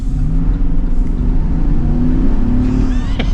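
A Chevy Express van with a 6.6L V8 engine revs while driving, a steady, loud low engine drone holding throughout with a slight rise near the end.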